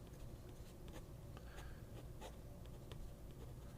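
A Plumix fountain pen with a stub steel number 5 nib scratches faintly across paper, with soft, irregular strokes and brief scrapes at close range under steady low background noise.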